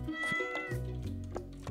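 Cat meowing in the Stardew Valley video game, several short game-sound meows over background music, fairly clear and close.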